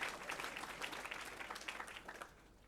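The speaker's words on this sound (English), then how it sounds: "So give yourselves another round of applause." Graduating medical students at a white coat ceremony clap in a faint, distant round of applause that slowly tapers off.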